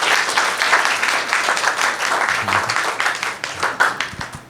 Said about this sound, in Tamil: இங்கே வந்து இன்னொரு முறை கைத்தட்டுங்க அந்த குழந்தைக்கு